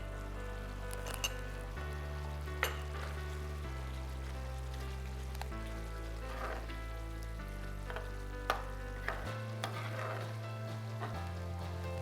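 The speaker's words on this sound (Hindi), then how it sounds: "इसको अच्छे से हम भूनेंगे 2 से 3 मिनट।" A mixture with mint sauce added fries in a pan, giving a steady soft sizzle with occasional louder spits, heard under continuous background music.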